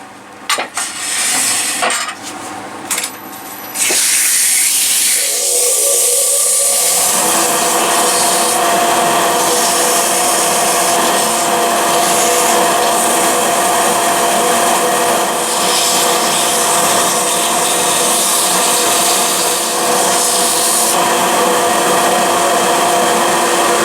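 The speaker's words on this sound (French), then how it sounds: "on va donner un petit coup de ponçage maintenant" A power sander works over a wooden paper pot mould, starting after a few seconds of clatter and then running as a loud, steady, continuous whir with faint rubbing changes, close and without talking.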